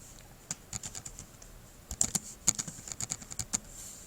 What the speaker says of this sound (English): And you just type that in.